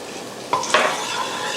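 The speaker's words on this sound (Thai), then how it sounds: "นำผักโขมนะคะ ลงไปผัดค่ะกับน้ำมันมะกอกนะคะ" Spinach hits hot olive oil in a pan with a sudden sizzle, followed by stirring scrapes and a steady frying hiss.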